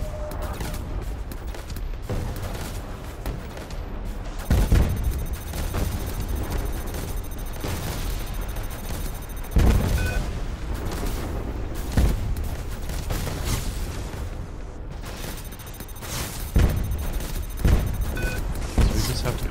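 Enemy ship exploding in the space combat game Star Conflict, with several heavy booms and blasts over a constant rumbling bed of engine noise and weapon fire, loud and close.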